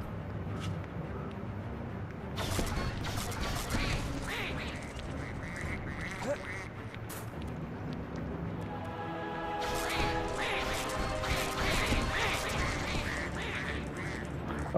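Repeated cartoonish duck quacks sound in bursts from the LEGO Harry Potter video game on PS5, mixed with game sound effects and music over about fifteen seconds.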